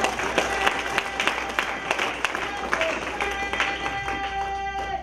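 Church congregation clapping and cheering for the kings of the Orient, a dense close burst of applause with rhythmic claps and raised voices throughout.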